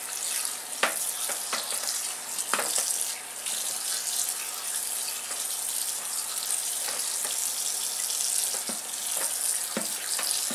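Cold water runs from a tap over cooked lasagna noodles in a large colander, a steady rushing hiss broken by scattered splashes and clunks as the noodles shift, with no voices.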